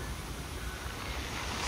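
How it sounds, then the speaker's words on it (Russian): Sea surf washes steadily onto Chaika beach in Adler, Sochi after a storm, a dense broadband rush mixed with wind noise on the microphone, with no voices. "Есть волна еще."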